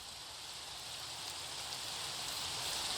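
Steady rain falls continuously as a dense, even hiss with no pauses or other sounds.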